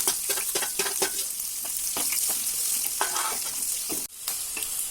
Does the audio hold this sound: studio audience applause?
no